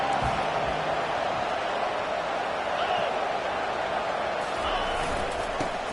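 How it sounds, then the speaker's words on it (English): Spectators at an Auburn college football game fill the stadium with a broad, sustained roar of cheering. The noise holds steady at a distance, with a commentator's voice faintly over it. "And the crowd coming to life here, trying to help this defense down in the red zone."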